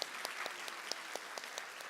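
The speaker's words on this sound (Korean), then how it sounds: "우리 박수로 환영하겠습니다." A church congregation applauds to welcome visiting guests during a Sunday service, a brief, soft burst of many hands clapping with a few distinct claps, heard faintly from a distance.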